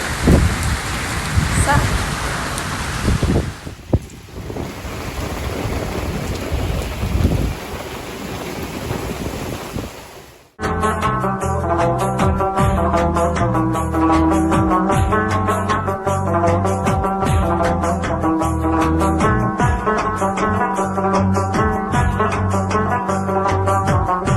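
Heavy rain pours down during a storm, a loud dense hiss for the first several seconds before giving way to music.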